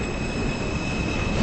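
An R160 M local subway train in a Roblox game runs along the track, a steady loud rumble of wheels and rail noise with a thin sustained squeal above it, no talking.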